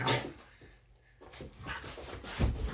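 A pet dog whines and grumbles in short, thin whimpers during rough play, fairly close and quiet, with a brief lull in the middle before scuffling noises return.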